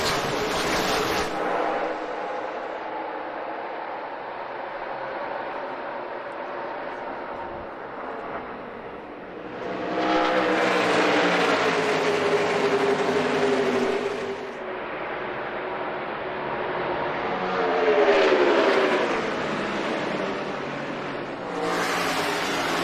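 NASCAR Cup Series race cars roar away from the green flag start at Phoenix's desert oval, loud engine drones rising and falling as packs of cars sweep past, with a broadcast commentator talking over the noise.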